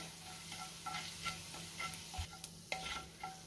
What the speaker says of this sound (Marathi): तेल गरम झाले, तेलामध्ये मी धने घालते, त्यातच आपल्याला जिरे घालायचे।